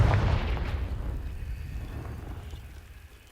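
A blasting spell from the Hogwarts Legacy video game goes off as a loud, deep boom that rolls into a rumbling decay, fading over about three seconds with no talk.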